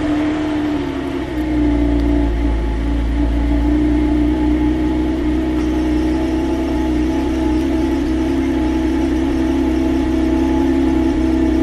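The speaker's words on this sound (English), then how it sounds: "Well, we got her car started" An Audi with a cooling-system fault idles steadily after starting, a loud, even low engine drone with a constant hum that holds for the whole stretch, with no voices over it.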